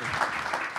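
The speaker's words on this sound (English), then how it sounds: "that deserves a clap" Audience applause at a Newark panel discussion: a brief, dense wash of clapping hands throughout the short moment, steady and moderately loud with no break.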